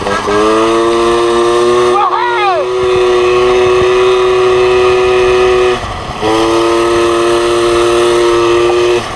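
A Peugeot 103 SPX moped engine drones steadily and loudly while being ridden, a constant buzzing tone that dips briefly twice, once with a rising and falling pitch sweep.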